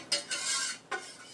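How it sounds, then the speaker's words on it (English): Cooked rice is scraped and shifted from one pan into another with a metal utensil, two quick close scraping strokes against the pan surface followed by a shorter third. "I'm going to go ahead and transfer pans really fast."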